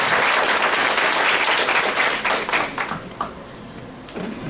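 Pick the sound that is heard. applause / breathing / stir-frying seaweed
applause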